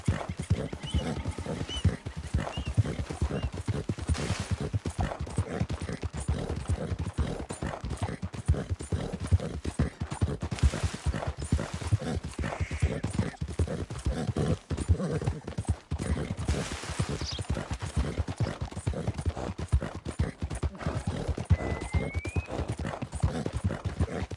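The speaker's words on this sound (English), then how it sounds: "that's a nice-looking horse you have there" Steady clip-clop of horse hooves plodding along at an even walking rhythm in Red Dead Redemption 2, close and continuous, with a brief whinny and faint game ambience behind.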